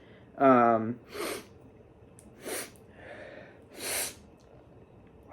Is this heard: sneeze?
yes